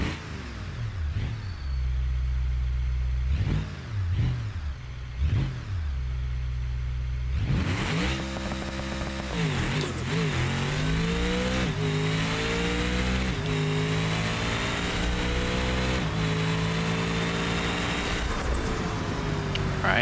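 Stick shift car with a 500 shot of nitrous in BeamNG, engine revving in short blips and then launching into a loud, sustained full-throttle pull, the pitch climbing through several gear changes, alone without talk.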